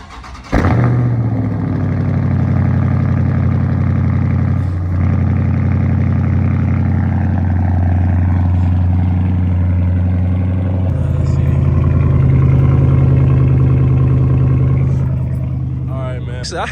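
A Dodge Charger Scat Pack idles with its exhaust run straight pipe and the catalytic converters still on, a loud, steady, deep burble that holds close and continuous throughout, with its tone shifting slightly partway through.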